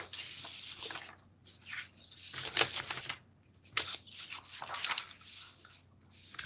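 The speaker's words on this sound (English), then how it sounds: "if I could find my agenda under this pile of papers that I'm shuffling" A pile of papers shuffled and rustled at a desk during a planning board meeting, with broad crackling swishes and slides in several bursts, fairly close and moderately quiet, no speech.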